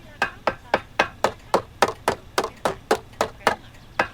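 Hammering on an object while upgrading it in The Sims 3, a steady series of about fifteen sharp, evenly spaced knocks, close and clear with no talk.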